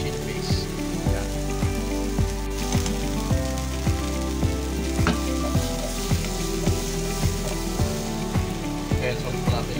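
White mushrooms sautéing in a pan with chili paste for Mongolian-style stir fry with tofu: continuous crackling sizzle close up, with soft background music playing throughout and no talk.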